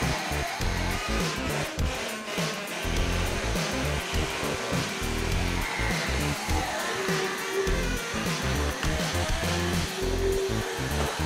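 A steady electric buzzing hum of an Oral-B Genius 9000 electric toothbrush running close up, continuous and fairly loud with slight wavering in pitch.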